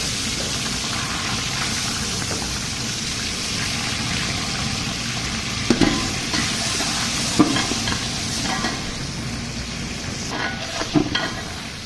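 Garlic-ginger paste sizzles and fries steadily in hot ghee, with occasional scraping and stirring sounds from a spoon against the pan.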